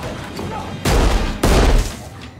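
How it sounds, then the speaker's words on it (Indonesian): Two sharp, loud pistol shots ring out close by about half a second apart, each followed by a short decaying blast, in a violent struggle scene from a zombie film. "ia berhasil meraih pistol milik Case dan langsung menembaknya"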